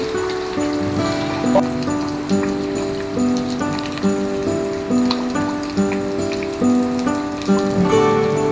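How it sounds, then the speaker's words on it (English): Steady rain falls on a rainy day, a continuous soft patter with scattered drops, running throughout beneath sustained melodic music with shifting tones. "But then, let's enjoy the rainy day."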